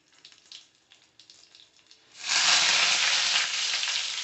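Crushed garlic hits hot oil for a tempering, bursting into a loud, steady sizzle after a couple of seconds of quiet clinks and light crackles, close and alone without talk.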